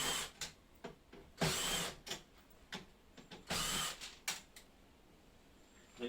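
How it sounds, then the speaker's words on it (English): Phillips screws coming out of a door lock, probably with a power driver, heard as several short whirring bursts with brief pauses, close and fairly quiet, with no talk. "So just start by removing the most obvious Phillips screws."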